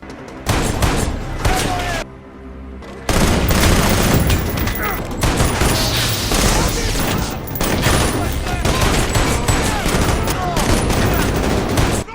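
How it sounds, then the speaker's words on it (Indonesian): An action film shootout erupts in dense, rapid gunfire bursts and booms, loud and continuous apart from a brief lull, with a narrator's voice talking over the shots. "Baku tembak pun terjadi."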